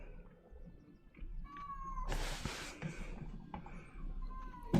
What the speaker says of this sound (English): If you hear meowing, I'm sorry.